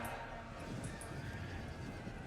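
Horses neigh and hooves pound within a dense, continuous roar of battle in the ancient warfare strategy game Rome 2, the animal sounds blended into a loud, unbroken wash of combat noise.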